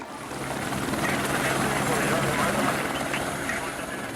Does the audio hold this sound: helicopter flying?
yes